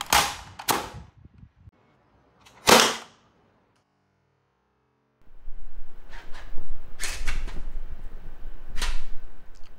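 A Torrent/Foxbat-size 3D-printed foam dart blaster fires a series of sharp, loud snapping shots, a few early on, then a pause before several more over a noisier background.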